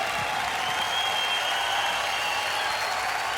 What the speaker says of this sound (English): Let's have a round of applause for Rowan and Tommy.